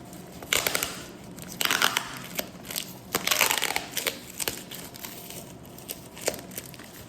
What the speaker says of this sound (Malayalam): നമുക്കിതൊന്ന് അൺബോക്സ് ചെയ്യാം.